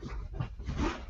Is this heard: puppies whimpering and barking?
yes